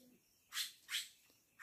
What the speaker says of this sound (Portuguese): o guaxo é esse que tá falando aí, ó.